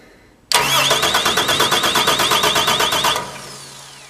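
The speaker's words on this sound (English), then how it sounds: "so we'll crank the engine" An engine cranks with a rapid rhythmic whirring of the starter for about three seconds, then catches and settles into a low idle.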